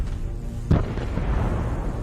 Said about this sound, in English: This gave the artillery time to take aim and destroy the armored vehicle.